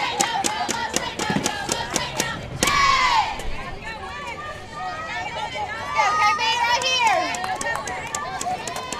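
Big crowd at a high school softball playoff game, with loud shouting, cheering and babble throughout, sharp yells and whistles rising over a steady roar of voices.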